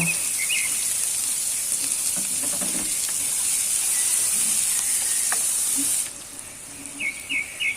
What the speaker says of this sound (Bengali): পেঁয়াজটা দিয়ে একটু নেড়ে চেড়ে কালার চেঞ্জ হয়ে আসা পর্যন্ত ভেজে নেব